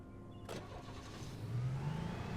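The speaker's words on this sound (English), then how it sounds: "got into the car and started driving on the road" A car engine in the video game Alan Wake cranks and catches after a short mechanical clunk, then settles into a rising, steady mid-pitched running note, loud and close, with no talking.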